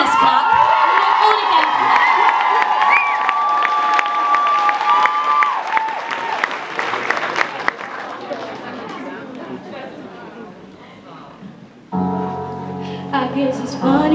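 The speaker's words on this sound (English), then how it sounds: "can you give Sheree a big, massive, fabulous clap?" An X Factor 2013 studio audience claps and cheers for Sheree, with loud sustained applause, whoops and crowd chatter, then a voice speaks over the fading noise before a sharp change near the end.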